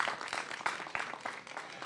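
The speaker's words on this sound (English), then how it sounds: "Give yourselves a round of applause, will you?" A small audience at a town-hall-style show in Hellertown claps in a loose, uneven patter, with individual claps standing out at moderate volume.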